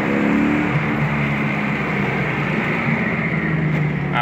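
1993 Ford Mustang Cobra engine rumbling loudly and close as it downshifts and brakes, a steady low growl with its revs easing, and no talk over it.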